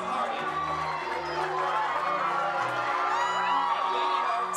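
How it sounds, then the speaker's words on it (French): Relatives cheer and whoop as cadets parade at a military-style camp for troubled teenagers, a loud continuous crowd roar with shouts throughout, while a voice speaks over it. "C'est la tête haute que les cadets défilent sous les acclamations de leurs proches."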